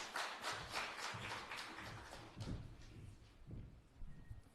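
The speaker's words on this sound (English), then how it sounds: "May we please give the Governor another round of applause" An audience applauds the Governor at a petroleum local content policy consultation in Eenhana, with steady overlapping claps at moderate level that swell briefly and thin toward the end.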